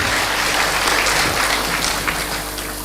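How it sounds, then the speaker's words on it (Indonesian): A crowd at a talk event in Lampung breaks into loud, sustained applause, a thick continuous clapping that stays strong and eases only slightly toward the end. "tepuk tangan yang meriah"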